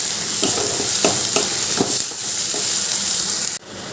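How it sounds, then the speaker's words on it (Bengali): Mutton masala with chili powder sizzling steadily in a pan, with rhythmic stirring scrapes every half second or so, loud and close, ending abruptly. "এরপর দিয়ে দিলাম এক চামচ লঙ্কা গুঁড়ো দিয়ে আবার ভালো করে ভেজে নিলাম"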